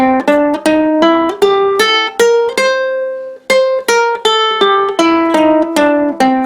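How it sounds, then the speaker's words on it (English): Bright plucked ukulele notes step up and down a C blues scale at an even pace, each note ringing briefly, with no talking. "Now we're going to add the blues notes, which are that flat third and that flat seven,"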